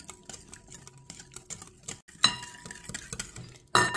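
A spoon clinks and scrapes against a bowl while mixing yogurt and garlic dressing, with repeated light taps and a couple of sharper knocks near the end.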